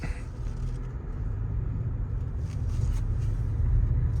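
A 2022 Toyota RAV4 Hybrid LE with its engine back on, a low steady idle rumble that swells slightly toward the end, heard alone without talk.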